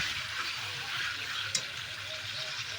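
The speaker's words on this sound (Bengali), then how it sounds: "এবার এটাকে আরও একটু কষিয়ে নেব।" Chicken curry sizzles in a pan while being sautéed and stirred, giving a soft continuous frying hiss with light scraping at moderate distance.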